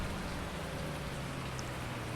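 Rain falls steadily in the video game Farming Simulator 19, a soft, even hiss of dense drops with a low rumble beneath, faint and constant throughout.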